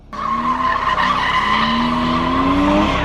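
A Nissan 370Z fitted with an angle kit drifts with a loud, sustained tire squeal whose pitch climbs slowly, backed by engine roar throughout.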